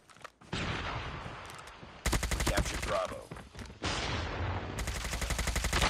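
Bursts of rapid automatic fire from the HBRa3 rifle in a ranked shooter match, several loud sustained volleys separated by short pauses, with faint in-game chatter between them.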